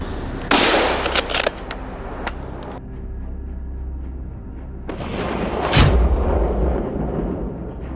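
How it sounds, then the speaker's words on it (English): Gunshots sound during a wild boar hunt in a forest, with a couple of loud cracks and booming reports rolling off into echo over steady background noise. "gunshots cracked through the forest"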